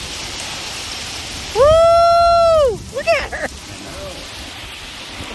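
Heavy rain pours down outside by a barn, a constant dense hiss throughout, while a person gives a loud whooping exclamation and then talks briefly over the downpour.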